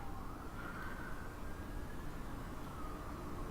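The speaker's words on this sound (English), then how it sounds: "There's been a lot of sirens today." Faint emergency vehicle siren outdoors, a steady wailing tone held in the distance for several seconds under a low background rumble.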